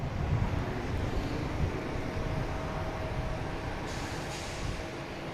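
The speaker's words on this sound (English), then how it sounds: "We have a JetBlue heading to San Francisco, an A321." A JetBlue Airbus A321 jet rumbles on its takeoff roll, a steady moderate engine roar with a faint whine, heard alone without voices.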